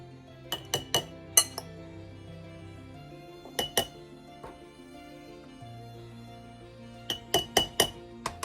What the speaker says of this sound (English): Now I'm going to put in a teaspoon of carrots and celery and onion.